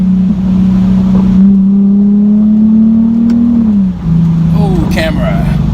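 A Nissan 370Z with a muffler-deleted exhaust revs loud and close, its engine note holding steady, climbing slowly, then dropping back. A second rise and fall of revs follows near the end of the clip, with no talking.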